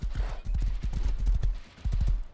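Horse hooves clip-clopping in the Rust survival video game, a rapid, loud, close run of galloping hoofbeats with a short pause before they resume.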